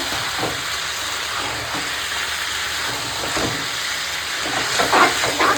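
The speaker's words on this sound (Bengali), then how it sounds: "এখন আমি মাংসটাকে কষিয়ে নেবো সুন্দর করে" Chicken pieces coated in chilli powder, turmeric and salt sizzle as they are sautéed in a pan, a loud steady hiss that swells slightly toward the end.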